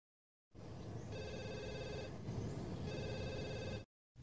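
A telephone rings in a film scene, two clear bursts of ringing from a nearby handset with a short pause between them, set against quiet room tone.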